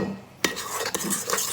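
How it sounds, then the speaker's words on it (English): Raw sugar and spices being stirred in a pot by hand, a sharp spoon knock followed by continuous gritty scraping and rustling, close and moderately loud without speech. "give that a bit of a stir"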